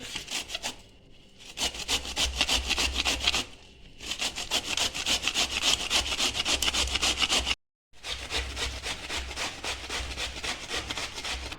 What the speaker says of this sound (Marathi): हा कोबी मी ना किसणीने किसून घेते